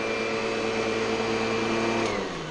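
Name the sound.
vacuum cleaner running on house carpeting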